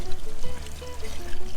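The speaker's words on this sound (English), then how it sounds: "Now we're just going to deglaze the bottom of the pan with some of this chicken broth." Chicken broth is poured into a hot pan on a Pit Barrel Cooker to deglaze it, a short, close, steady liquid pour with light bubbling.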